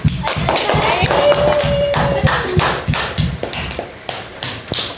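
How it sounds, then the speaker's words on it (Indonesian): Schoolchildren in a fifth-grade primary classroom clap for a group of classmates, quick uneven hand claps and thuds close by, with a brief high tone and some voices mixed in. "tepuk tangan untuk kelompok proses"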